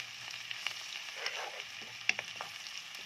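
Minced ginger sautéing in a pan, a steady close sizzle with soft crackles and occasional sharp pops and stirring clicks.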